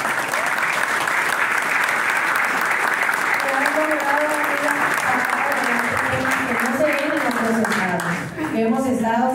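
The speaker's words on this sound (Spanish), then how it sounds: "Yo les pediría un aplauso para ella" An audience at a public security briefing in Sonora claps in a steady, dense round of applause, with a voice speaking over the clapping midway through.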